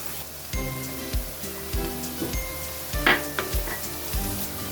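Onion and chopped green chillies fry in hot oil in a pan, a steady close sizzle broken by repeated scraping stir strokes and a few light clinks of the spoon against the pan.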